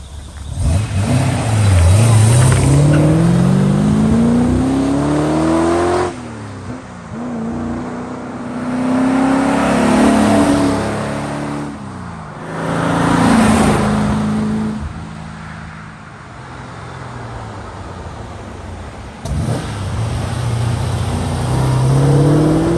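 A 1983 Aston Martin V8 Vantage coupe accelerates hard along a farm road, its V8 engine rising through the gears in loud, repeated climbing revs with short breaks at each shift, heard close from inside.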